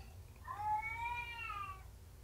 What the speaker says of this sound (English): He's deaf, so he meows really loud.